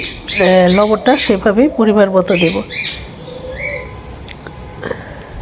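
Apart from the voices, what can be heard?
pet birds chirping and squawking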